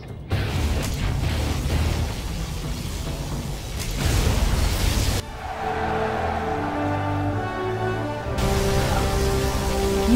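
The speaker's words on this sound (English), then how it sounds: "Particle cannon activated." A particle cannon strike in Command and Conquer lands as heavy booms and crackling bursts, followed by a long ringing, rumbling aftermath, loud and with no voices over it.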